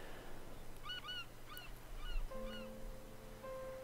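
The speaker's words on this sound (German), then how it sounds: "Ich glaube, das ist eine Möwe," A seagull calls in the island landscape of the video game Dear Esther, giving several faint, honking cries in short bursts over a steady low hum and soft ambient wind.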